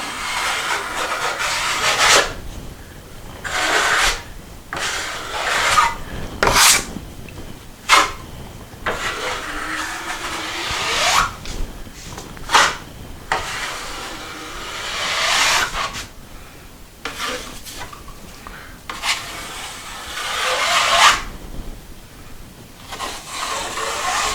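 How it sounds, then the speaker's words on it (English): Drywall joint compound spread with a taping knife in a laundry room, close rasping and scraping strokes in irregular bursts separated by short pauses, loud and without speech. "So the idea is you keep spreading out your compound wider and wider, and then don't leave any ridges."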